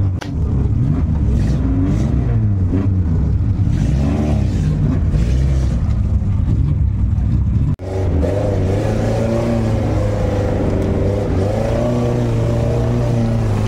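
A jeep engine revs loudly and steadily while driving through a shallow lagoon, a continuous close-up drone with a brief dropout midway before the engine pulls on again.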